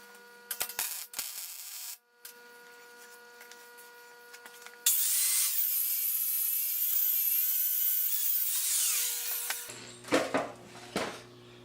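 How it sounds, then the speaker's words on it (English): An angle grinder smooths a fresh weld on a cracked 1968 Ariens rotary mower deck, a loud, steady, hissing grind running several seconds in the middle, framed by shorter tool noises and clanks before and after. "Gonna go ahead and weld up that crack and grind that smooth."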